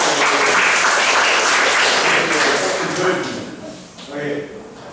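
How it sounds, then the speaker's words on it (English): Students in a classroom clap for a classmate, a loud, busy round of applause with voices mixed in that thins out toward the end. "give him an applause"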